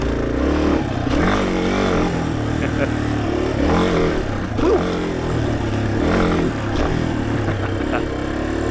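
A Yamaha XT250 dual-sport motorcycle is ridden with its engine droning loudly and steadily, rising and falling with repeated revs and gear changes, heard close up against wind rush.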